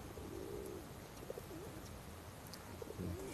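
Pigeons being fed outdoors coo softly in a few short, throaty bursts against a steady background hiss, with no talking over them.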